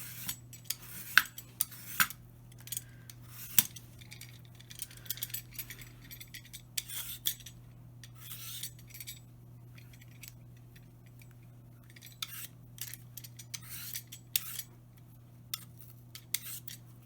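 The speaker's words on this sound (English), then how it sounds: "we're going to just peel and get that waxy skin off." A peeler scrapes waxy skin off cucumbers in a kitchen, with quiet, irregular scraping strokes and light clicks over a low steady hum, close by and with no talk.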